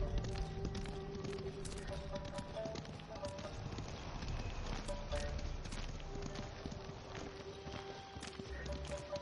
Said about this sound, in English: Going to assume that's my horse.